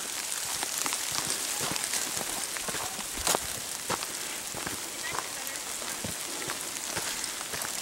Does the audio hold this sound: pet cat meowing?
no